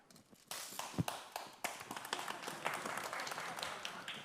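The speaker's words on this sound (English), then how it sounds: "I'm so happy that you are all clapping because I can count." An audience claps in scattered, uneven bursts, close and fairly loud, with a sharp single clap near the start before the applause builds and continues with voices mixed in.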